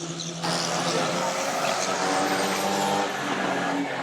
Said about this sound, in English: I hear the roar of number 77 Robert Hooper's engine.